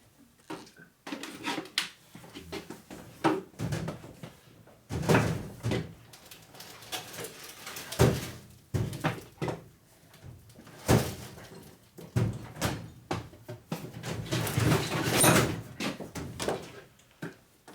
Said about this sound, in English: Probably should tape the drawer shut.